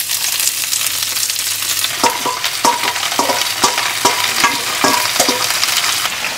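Endives frying in olive oil in a pan give a continuous loud sizzle, joined midway by a run of rhythmic scraping and tapping strokes from a utensil stirring them, close and without talk.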